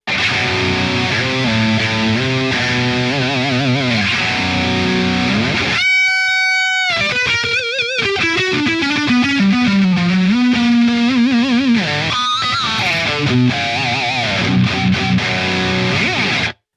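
Electric guitar played through a Jeff Loomis Devil's Triad metal drive pedal, heavily distorted sustained notes and bends with a brief silent gap midway, loud and alone without talk.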